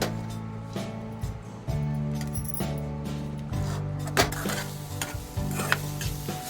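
Coconut, peppercorns and curry leaves dry roast in a pan with no oil, giving a close, steady scratchy rustle and stirring scrapes, with a few metallic clinks of a spoon against the pan.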